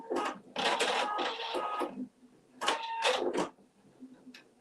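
An embroidery machine stitches a tack-down outline around a flower shape on fabric, whirring in two mechanical bursts about two seconds long with a quiet pause between them. The sound is fairly faint and close.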